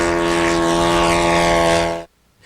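A radio-controlled model airplane engine under added throttle during aerobatics, a loud steady buzzing drone with strong harmonic whine that holds for two seconds, then cuts away sharply.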